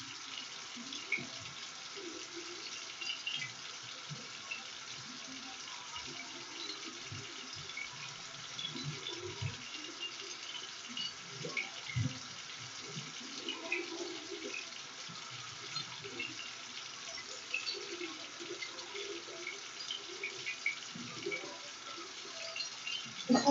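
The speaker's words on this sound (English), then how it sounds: "So I'm going to wash my hands for 30 seconds," Hands washed under a running tap, a steady faint stream of water with irregular splashes and rubbing as hands move through the flow, continuing for about twenty seconds without voices.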